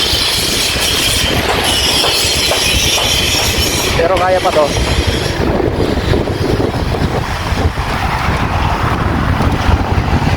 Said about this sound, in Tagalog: Sobrang hangin na. Sobrang hangin.